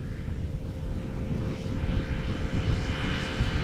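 A Boeing 737 airliner arriving at Schiphol's Polderbaan runway gives a steady, broad jet-engine roar that swells slightly as it approaches, heard alone without talk.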